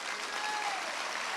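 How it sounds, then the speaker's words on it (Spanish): A church congregation breaks into steady applause, a dense wash of many hands clapping at moderate distance, sustained evenly with no pauses. "Un aplauso al Señor"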